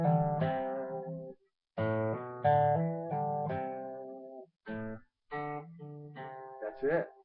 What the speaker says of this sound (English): it really enables you to play more quickly when you use hammer-ons and pull-offs